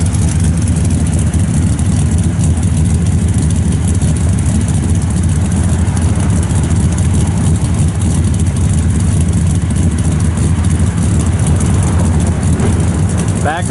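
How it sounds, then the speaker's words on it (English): A 1966 Pontiac GTO with a Magnaflow full stainless exhaust idling loud and close, a deep steady rumble with a constant low throb that never rises or falls. "The thing sounds really good. It's got Magnaflow full stainless exhaust."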